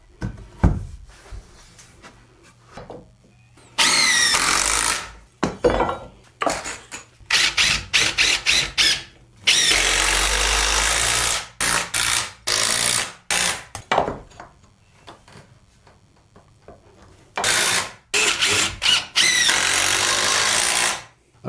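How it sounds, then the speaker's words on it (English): A power drill drives screws through the sides of 2x4 legs into an upside-down plywood workbench top, in repeated close, loud bursts separated by short pauses. "and then we'll screw our legs in from the side."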